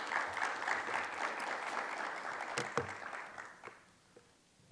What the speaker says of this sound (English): Let's give another round of applause for President Harris.